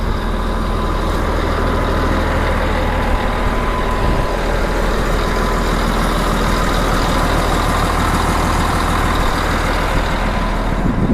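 A truck engine running after an antifreeze leak repair, a close, loud, even rumble that holds steady for the whole stretch with no voices.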